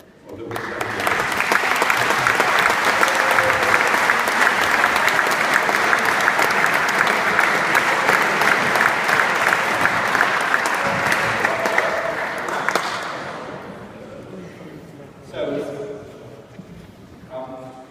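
A crowd of wedding reception guests bursts into sustained, loud applause during the father of the bride's speech, holding steady for about twelve seconds before thinning out, with a voice and a few scattered claps following.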